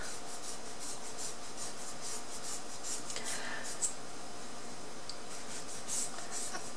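Thai mango being peeled by hand for sticky rice, a soft continuous rubbing and scraping with faint wet rasps, close and quiet, with no talking.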